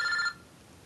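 A phone ringing with an incoming call, a bright electronic ring that sounds briefly, close and clear, then cuts off into quiet room tone.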